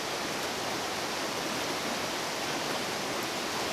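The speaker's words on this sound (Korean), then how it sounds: "폭포 근처로 가까이 다가가자 귀청을 울리는 물소리가 어마어마하다." A large waterfall at the edge of Mount Elgon National Park, Uganda, roars close by in a dense, steady broadband rush of falling water that holds constant throughout with no voices.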